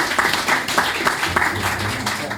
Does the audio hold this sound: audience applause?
yes